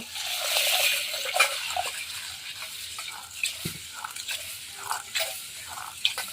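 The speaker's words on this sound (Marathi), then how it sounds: "आता आपल्याला मटकी छान धुवून घ्यायची दोन ते तीन पाण्याने स्वच्छ" Moth beans are rinsed by hand in a small bowl of water, swirling and sloshing with a burst of splashing at first, then quieter intermittent stirring and trickling.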